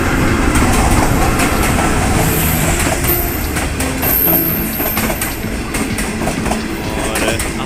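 Pakistan Railways 41 Up Karakoram Express passing close by, a loud, steady rush of rolling wagons with rhythmic clickety-clack of wheels over rail joints and brief high wheel squeals, heard alone throughout.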